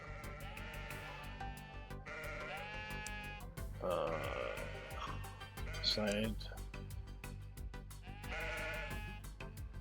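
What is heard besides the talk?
sheep bleating in the video game Necesse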